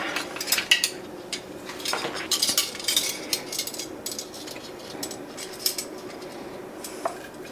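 Knife slicing through a cut of meat on a plate while portioning protein, giving a run of close scraping and clinking cutlery strokes with a few sharper metallic taps, no talk.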